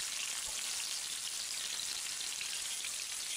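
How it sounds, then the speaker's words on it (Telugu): Garlic cloves and chopped green chillies fry in hot oil for a snake gourd milk curry, an even, bright, rain-like hiss that stays close and unbroken. "వెల్లుల్లి రెమ్మలు బాగా వేగిన తర్వాత తరిగిన పచ్చిమిర్చిని వేసుకుని వేపుకోవాలి"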